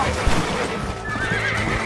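A horse in the video game Red Dead Redemption whinnies and clip-clops amid busy in-game background noise, close and steady throughout.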